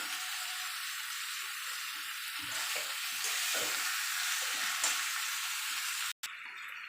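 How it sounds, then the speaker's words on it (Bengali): Spiced taro stolons sautéing in a pan give a steady, close, bright sizzle, with soft scraping sounds of stirring that come and go. "ভালো করে কষিয়ে নিয়েছি"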